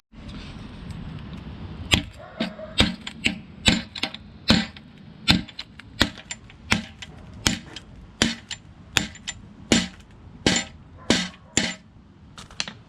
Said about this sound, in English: I'm just gonna go ahead and hammer this in real quick